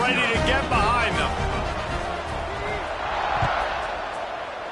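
A stadium crowd at an American football game, a broad roar of cheering before a kickoff, heard under a broadcaster talking steadily throughout.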